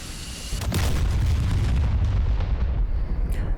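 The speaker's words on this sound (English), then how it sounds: "Oh, the explosion killed us." A loud, sustained explosion rumbles as an F-15E is destroyed in the DCS World flight simulator: a sharp burst near half a second, then dense, heavy booming and roaring that stays loud to the end with crackling debris.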